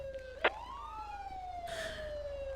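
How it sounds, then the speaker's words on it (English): Police car siren in GTA 5 roleplay, a steady wailing tone sweeping slowly down and up, loud and continuous, with a brief sharp burst near the start and a noisy hiss later. "Let's get a siren check if we can."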